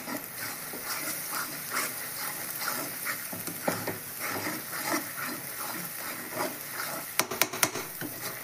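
Spiced masala sizzles in oil while a spoon stirs it continuously in a pan for a chicken dish. The frying crackle is steady, with scraping pulses and a few sharp clinks of metal near the end.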